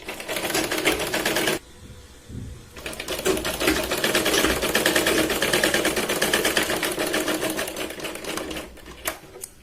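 A sewing machine sews a strip onto a katori blouse, running in a brief burst, stopping for about a second, then running steadily and close for the rest of the clip.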